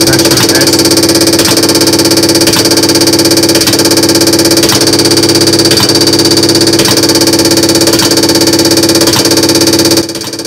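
A Carbon Zapp GD1R test bench runs a dynamic high-pressure test on a GDI petrol injector, with a loud, steady machine drone under a fast, regular ticking pulse that stops abruptly near the end.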